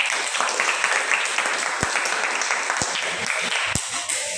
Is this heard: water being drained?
no